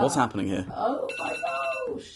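A mobile phone alarm rings out with a bright repeating electronic tone, clearest in the second half, while people talk loudly over it at first.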